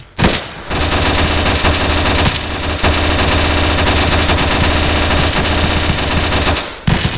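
Sustained heavy automatic fire from a massive gun in the Roblox game Blackhawk Rescue Mission, loud and close, rattling continuously for about six seconds with brief breaks before stopping.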